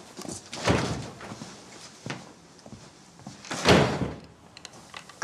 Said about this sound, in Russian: Сначала дверью хлопает, а потом прощения просит.